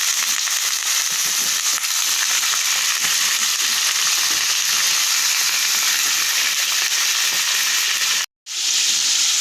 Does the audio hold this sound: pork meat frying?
yes